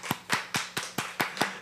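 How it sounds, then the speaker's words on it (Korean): A church congregation claps in welcome during a Sunday service: seven distinct, evenly spaced sharp claps about a fifth of a second apart, fairly close and moderately loud, with no talking. "큰 환영의 박수로 축복했으면 좋겠습니다."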